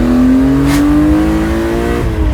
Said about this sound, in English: Second gear. 5000 RPM still. 4000 RPM in second.